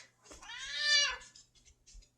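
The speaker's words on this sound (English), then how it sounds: "My cat has some things to say, I guess." A house cat lets out a single close, drawn-out meow that rises and falls, followed by a few faint soft sounds in an otherwise quiet room.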